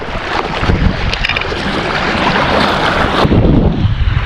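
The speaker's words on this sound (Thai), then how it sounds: "ฝั่งนี้ลมเข้าแรงมากนะฮะ" Strong wind blows on the rocky coast of Ko Si Chang island, roaring steadily into the microphone as loud, broadband buffeting with gusts swelling and easing, no voices.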